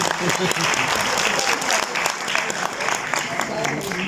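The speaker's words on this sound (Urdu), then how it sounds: "جس میں ہمیں تالیاں بھی بجانی چاہیے" Audience applause at an Urdu-language talk on cultural and language identity loss: a dense, sustained wash of clapping from a hall crowd, loud and close throughout.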